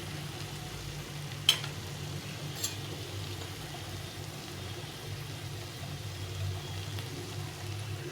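Banana flower curry with ghee and garam masala gives a faint, steady sizzle in the pan, with a couple of brief spoon taps as it is stirred.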